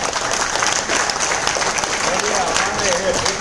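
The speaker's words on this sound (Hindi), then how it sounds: "सर के लिए जोरदार तालियां" Loud, steady applause fills the room for a teacher at a classroom lecture, dense clapping throughout with a voice calling out near the end.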